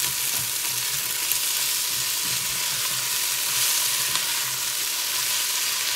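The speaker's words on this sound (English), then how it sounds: "Kind of saute my onions some." Onions sauté in a frying pan for beef and noodles, a steady bright hiss of sizzling fat close up with faint occasional stirring, continuous and even throughout.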